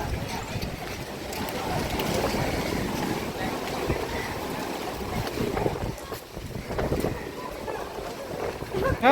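Sea waves roll in at the shore by Chaityabhumi in Dadar, Mumbai, a steady, fairly loud wash of surf with wind buffeting the microphone throughout.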